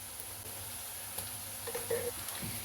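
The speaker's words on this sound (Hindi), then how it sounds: "प्याज हमारा फ्राई होना शुरू हो चुका है" Quiet, steady sizzling of onions frying in a pan for chicken pulao, with faint scraping and stirring sounds now and then.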